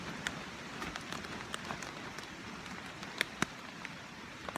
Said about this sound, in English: It's a lot of wind, a little bit of rain, some thunder.